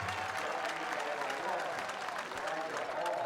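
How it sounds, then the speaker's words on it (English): Crowd at a high school football game between Northwest and Wayne County, a steady, dense roar of cheering and applause filling the whole stretch without letup. "This Northwest crowd, they are letting those fans from Wayne County hear it every time that they do something"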